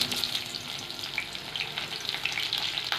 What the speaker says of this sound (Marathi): छान करपू द्यायचं आहे यांना आपल्या मिरच्या छान करपलेल्या आहेत